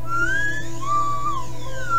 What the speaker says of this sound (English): This is how you whistle.